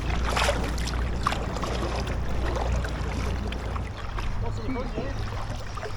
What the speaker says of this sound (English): Quite a bit of backwash there.